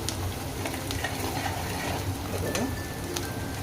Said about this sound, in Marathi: मस्त फ्राय होत आहे